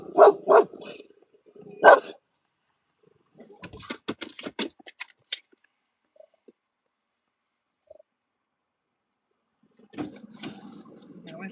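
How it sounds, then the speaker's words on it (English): A dog barks a few times in sharp bursts at close range, then falls quiet; after a pause, more faint noise and a short bark-like burst follow. "That was her barking."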